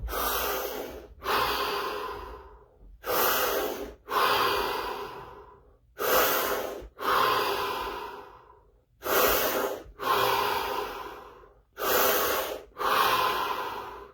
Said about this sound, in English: Here we go, 7 deep breaths.